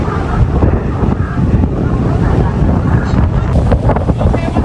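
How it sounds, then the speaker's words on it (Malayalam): Strong wind buffets the microphone on a boat at sea off Thailand, a steady loud broadband roar with low rumbling gusts throughout, hiss of water and engine blended underneath. "ആഹാ, അടിപൊളി കാറ്റും"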